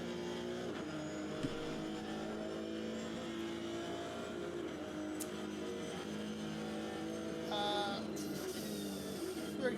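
A Honda race car engine drones steadily in a racing game at Red Bull Ring, a constant buzzing whine with a brief rise near the end, while a commentator talks over it.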